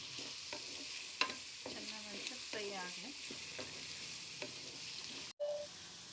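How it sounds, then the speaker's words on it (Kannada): Carrots and beans fry in a pan for pasta, a steady soft sizzle with repeated scraping stir strokes of a spoon against the pan, fairly close and without talk. "ಕ್ಯಾರೆಟನ್ನು ಅದರ ಜೊತೆಗೆ ಸೇರಿಸ್ಕೊಂಡು ಈಗ ನೆಕ್ಸ್ಟ್ ಸ್ವಲ್ಪ ಮಿಕ್ಸ್ ಮಾಡಿ ಫ್ರೈ ಆಗಲಿ"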